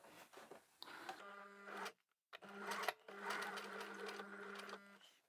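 A sewing machine stitches over a bulky clothing seam in short runs, one of them hand cranked, with a rhythmic whirring hum broken by brief pauses and nearby handling clicks.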